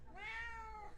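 A house cat gives a single clear, drawn-out meow lasting about a second, close and alone, rising and then falling in pitch.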